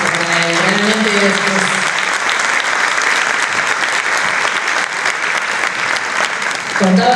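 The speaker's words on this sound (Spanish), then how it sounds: "Un aplauso para él" An audience at a talk on children's and adolescents' rights gives a loud, sustained round of applause for a guest judge, with a voice speaking briefly at the start and end.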